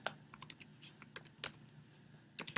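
Typing on a computer keyboard: quiet, irregular key clicks tapping close by in short clusters, with a pause in the middle and no voices.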